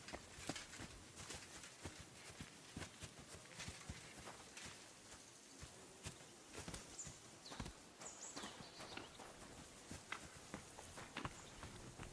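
Horse hooves clip-clop steadily in Kingdom Come: Deliverance 2, a brisk continuous rhythm of hoofbeats on the ground, moderately close and fairly quiet, with no talking over them.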